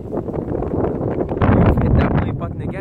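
Outdoor wind buffets a microphone on a tripod, a loud rumbling whoosh that swells and eases over a few seconds, with no clear speech.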